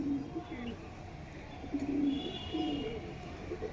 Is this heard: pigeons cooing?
yes